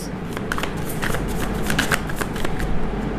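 Tarot cards being shuffled close by, a rapid run of crisp riffling flicks and taps repeating over a few seconds with no talking.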